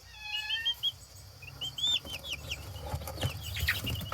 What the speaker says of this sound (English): we got new baby chicks